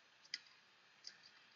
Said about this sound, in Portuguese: Clique em salvar.